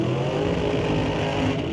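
Drag race cars launch together at an ET bracket race, a Firebird against a Nova, with loud, sustained engine roar under hard acceleration that dominates the moment and has no talk over it.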